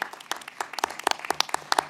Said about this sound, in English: give yourselves a round of applause for sticking with this fight